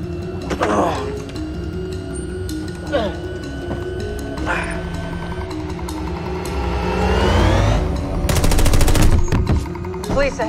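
Gunfire bursts in a Westworld action scene, with sharp shots and automatic fire over a rumbling engine and score, a rising whine and a loud rapid volley near the end, with voices speaking between shots.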